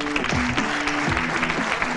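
Studio audience applauding on a Saudi sports TV competition show, a steady, dense wash of clapping that fills the whole moment, with a tonal music sting running underneath.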